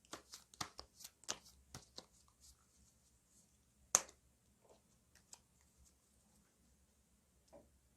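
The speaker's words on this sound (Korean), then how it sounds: "카드 섞어볼게요." Tarot cards are shuffled by hand in a quiet room, a run of soft, crisp riffling clicks and taps, busiest at the start, with a sharp snap midway, then fading to sparse light touches.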